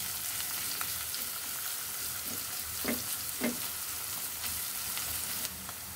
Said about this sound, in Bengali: তারপর একটা ফ্রাই প্যানে পরিমাণ মতো সয়াবিন তেল, পেঁয়াজ ও কাঁচামরিচ কুচি দিয়ে ভেজে নিব।